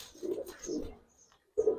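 A Giribaz pigeon gives three close, soft, throaty coos, two in quick succession and a third after a short silence, in an otherwise quiet space.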